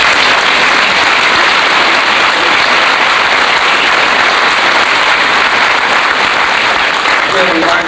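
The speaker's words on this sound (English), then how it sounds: "Let's give a large round of applause." Loud, continuous applause from a high school senior assembly audience honoring award winners, a dense wall of clapping that stays steady from start to end.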